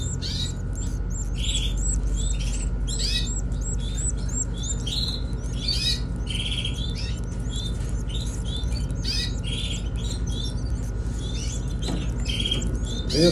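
Chorus of shrill, rapid chirps from canary chicks begging insistently while being hand-fed, close and continuous, with soft rustling underneath and no talking.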